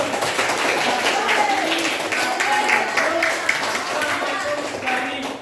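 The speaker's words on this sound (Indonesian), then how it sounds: "Tepuk tangan buat Mas Andrano." A classroom of children claps for a classmate during a fractions lesson, a steady crackle of many hands applauding, with children's voices chattering over it.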